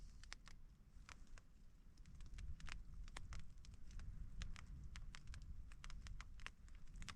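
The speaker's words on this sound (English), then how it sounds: "Just hear a little pitter patter on the top of the tent" Light rain patters on top of a tent pitched in wind and rain on the Scottish coast, with many quick separate taps of varying strength over a steady low rumble of wind.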